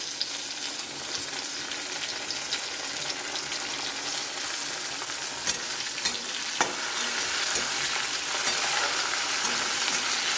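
Chopped tomato fries in a pan with a steady close sizzle and occasional stirring scrapes, and a few clicks come toward the end.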